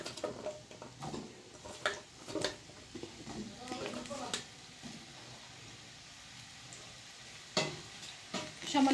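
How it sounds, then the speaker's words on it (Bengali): Stem and potato pieces frying in a pan for a fish curry, with a soft continuous sizzle, intermittent stirring scrapes and occasional clinks, partly under a talking voice. "এর উপর আমি ডাঁটা আলুগুলো একটু ভেজে ভেজে নেব।"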